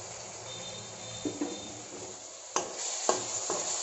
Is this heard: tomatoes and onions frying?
yes